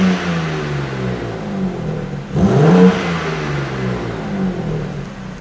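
Car exhaust note in comfort mode with the exhaust valves closed: a muted, steady engine drone, swelling briefly into a louder rev around the middle before settling back, close by with no talk.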